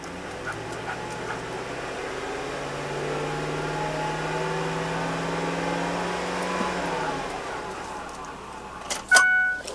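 A 2005 Ford F-150 pickup with a 4.6-liter V8 idles with a low steady hum and a slight rise in pitch, ending with a brief clunk near the close.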